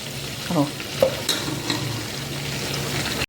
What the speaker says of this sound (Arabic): انا حطيتهم في صينية على جنب لغاية بقى ايه محمر البصل